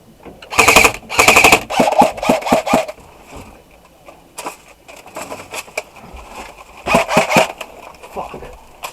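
Airsoft guns fire in rapid bursts during an outdoor tree house skirmish, sharp clattering volleys of several shots each with quieter single pops between, mixed with players talking.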